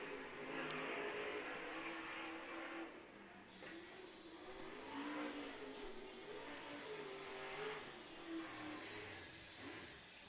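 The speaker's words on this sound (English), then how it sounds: "Got that open motor all wound up hard into turn 3" A late model race car with an open motor driven hard around a track at a qualifying night, a distant droning engine note that rises and falls through the turns, steady and moderately loud.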